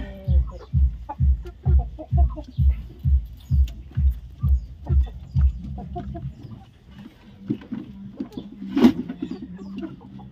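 Chickens clucking close by in a steady run of low rhythmic calls, then looser scattered clucks and rustling with a brief louder squawk near the end.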